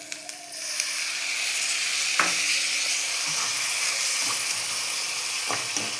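Water poured onto spices frying in a pan sets off a loud, steady sizzle and hiss, with a few clinks of a spoon stirring near the start and toward the end.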